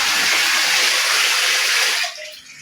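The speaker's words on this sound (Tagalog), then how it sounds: "puno na yung tubig kasi nag-iipon ako ng tubig" Water runs steadily from a tap into a storage container in a provincial home, a loud broadband gush that cuts off near the end, leaving a faint tail.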